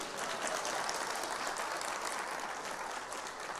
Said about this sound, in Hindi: फिर से तालियां बजाइए इनके लिए